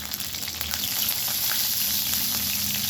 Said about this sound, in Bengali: দিয়ে দিচ্ছি জিরে ফোড়ন, আর দিয়ে দিলাম চেরা কাঁচা লঙ্কা